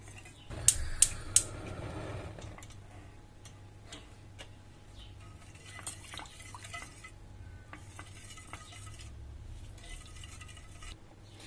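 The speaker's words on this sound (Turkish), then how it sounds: "Hemen meyvelerimizi de ilave ediyoruz içerisine ve karıştırarak bunu güzelce artık pişirebiliriz." Fruit and sugar sauce for a cheesecake stirred in a pot as it cooks, with a few sharp utensil clinks near the start, then soft, steady scraping and light ticking taps carrying on alone.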